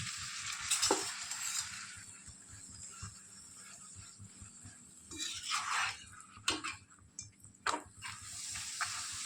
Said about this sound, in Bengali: ডুবো তেলে ভাজছি না, একটু হালকা হালকা তেলে ভেজে নিচ্ছি।